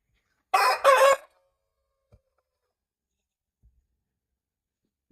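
A Brahma rooster lets out one short, loud crow near the start, close by, followed by near silence with a couple of faint taps.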